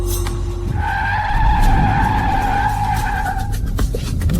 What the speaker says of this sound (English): Oh, Nian, stop the car!